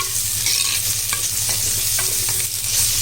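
Sliced onions and curry leaves sautéing in oil in a clay pot for fish curry, a steady close crackling sizzle with soft stirring scrapes running throughout.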